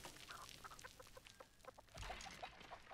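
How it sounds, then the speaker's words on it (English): Chicken clucking in the video game Texas Chainsaw Massacre, a series of quick, choppy clucks and squawks, fairly close and moderately loud, with a louder burst of clucking partway through. "Chicken right there."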